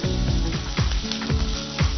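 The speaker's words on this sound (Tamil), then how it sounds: "இஞ்சி பூண்டு, வெங்காயம், பச்சை மிளகாய் 3 நல்லா வதங்கினதும்" Ginger, garlic, onion and green chilli fry in hot oil with a steady loud sizzle, while a utensil scrapes and stirs in regular strokes, roughly every quarter second, close by.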